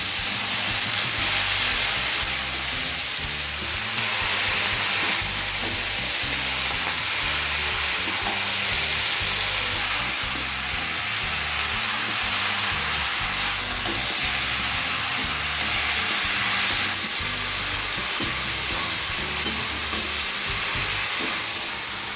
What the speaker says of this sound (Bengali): ভালো করে আমি নেড়ে নেড়ে সবজিগুলো কষিয়ে নেবো।